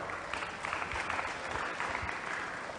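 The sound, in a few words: audience applause for debate contestants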